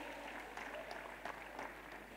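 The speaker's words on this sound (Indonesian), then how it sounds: "Tepuk tangannya untuk Pak Mahendra" An audience at a foreign policy forum claps for a guest speaker, a soft, somewhat distant spread of applause with a few sharper claps standing out.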